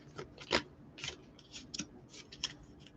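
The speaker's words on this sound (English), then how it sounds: "One more shuffle." Tarot cards being shuffled by hand, a soft run of papery riffles and taps with a few sharper snaps, close and quiet with no voice.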